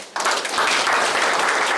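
A church congregation at a senior college graduation ceremony breaks into warm applause, dense clapping swelling up after a short quiet start and holding steady.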